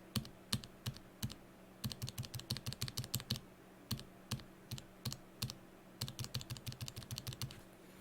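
JWK T1 mechanical keyboard switches get clicked in quick bursts, sharp close tactile clacks in uneven clusters against a quiet background.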